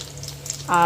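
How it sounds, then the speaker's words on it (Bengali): Chicken samosas (singara) deep frying in oil, a steady broadband hiss throughout the brief moment, with a voice-like tone rising near the end. "এখন আমাদের সিঙ্গারা ভাজা চলছে"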